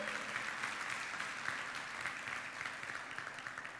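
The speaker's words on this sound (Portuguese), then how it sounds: "um aplauso de júbilo bem forte a Ele" A church congregation applauding together in a sustained, dense wash of clapping that holds steady throughout, full and moderately loud.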